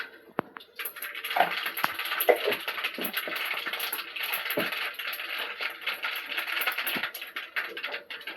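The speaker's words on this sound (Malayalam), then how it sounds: "കടുക് പൊട്ടിയിട്ടുണ്ട്." Mustard seeds pop and crackle in hot oil in a pan at the start of a stir-fried beans dish, giving a dense, irregular patter of small close-up clicks with no one talking.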